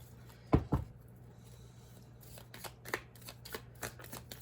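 Tarot cards are shuffled up close. A couple of sharp slaps come first, then a quieter run of irregular flicks and patters.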